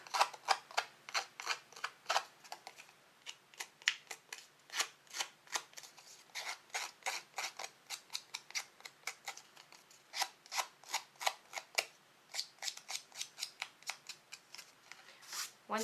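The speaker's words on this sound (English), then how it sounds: "You're then going to take your paper snips, opening the blade, and distress the edges of your image" Paper snips scraping and snipping along the edges of a cardstock image to distress them, a long run of quick, crisp, repeated rasping strokes in an uneven rhythm, close and fairly quiet, with no talking.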